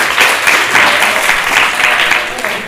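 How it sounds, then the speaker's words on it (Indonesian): Audience applause at the opening of the SIAF 2015 event in Indonesia, a steady dense wash of clapping lasting a few seconds with some voices mixed in. "Tepuk tangan buat Ami."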